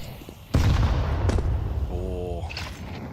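Grenade blast in a Counter-Strike pro match, a sharp loud boom that bursts in and rumbles away, followed by scattered gunfire-like cracks while a commentator talks over it.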